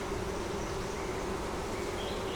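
Honey bees droning around an opened double-deep hive with a honey super, a continuous even buzz close by with no voices over it.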